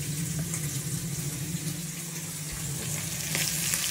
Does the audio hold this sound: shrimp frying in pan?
yes